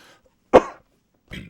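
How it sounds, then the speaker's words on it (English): One sharp, harsh cough, followed after a pause by a shorter, softer throaty cough; close and otherwise quiet. "I got this cough"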